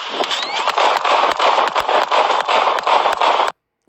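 Rapid volley of gunshots from a police shooting, a dozen or more sharp cracks fired in quick succession over about three and a half seconds before stopping abruptly.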